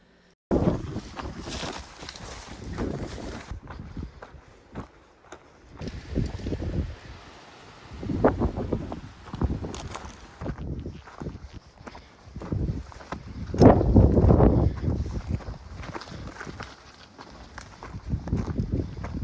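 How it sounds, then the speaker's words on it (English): Wind picks up near the mouth of a desert mountain canyon in Big Bend National Park, coming as irregular buffeting gusts that rumble against the microphone, with footsteps shuffling faintly beneath them. "the wind is really starting to pick up"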